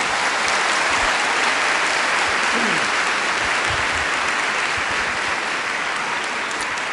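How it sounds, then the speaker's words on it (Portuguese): A large church congregation applauds after a scripture reading at a weekend service, a dense, steady roar of many hands clapping that carries evenly through the whole stretch without pause. "Pode aplaudir a palavra."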